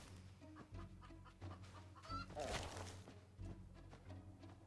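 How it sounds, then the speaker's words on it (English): A chicken in a video game clucks a few times over game music and ambient sounds, mid-level in loudness, while someone talks. "Did I drop the chicken?"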